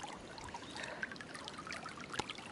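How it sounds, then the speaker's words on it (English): San Ysidro Creek flowing strongly at a campsite, a steady broadband rush and trickle of running water heard close and continuous, with no talk. "This is the San Ysidro Creek. Heaps of lovely camping spots around here and really good flow of water."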